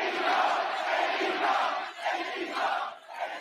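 A wrestling crowd chants AEW in an arena, a dense roaring mass of voices rising and falling in rhythmic waves, loud and continuous with no single voice standing out.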